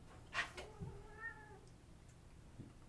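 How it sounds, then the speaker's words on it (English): An angry house cat meows loudly once, then lets out a drawn-out, wavering growling yowl, close and clear against a quiet room, followed by faint stray sounds. "My kitty's pretty mad."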